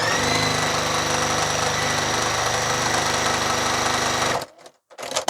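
A sewing machine runs fast and continuously while stitching quilt blocks, a loud buzzing whir with a steady mechanical rhythm that cuts off abruptly near the end, followed by brief handling noises.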